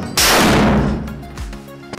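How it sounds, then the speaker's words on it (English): A stun grenade goes off in one sharp, ear-splitting blast, loud and close, then rings out and fades over a second or so. "They achieve this through an ear-splitting explosion, a blinding flash of light,"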